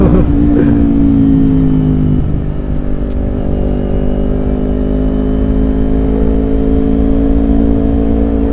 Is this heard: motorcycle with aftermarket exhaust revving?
yes